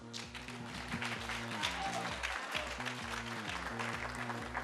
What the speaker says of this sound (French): On la accompagne avec des applaudissements.